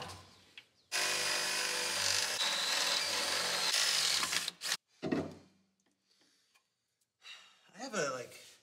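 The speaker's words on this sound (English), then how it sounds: "So I'm gonna drill it out a little bit to accept" A power drill enlarges a vent hole in the body of an FJ40, whining steadily for several seconds and then cutting out, followed by short bursts of handling noise and a brief voice.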